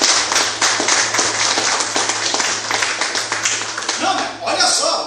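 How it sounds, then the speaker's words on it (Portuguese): A church congregation claps together for Jesus during a Portuguese-language service, steady rhythmic applause that runs throughout under a spoken voice. "palmas para Jesus amado"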